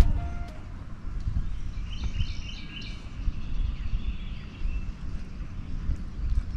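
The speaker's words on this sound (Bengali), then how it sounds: "খালি পাখির ডাক" Scattered birdsong drifts through quiet countryside, with a few soft chirps and short bursts of calling heard at a distance over a low, steady background rumble, and no voices.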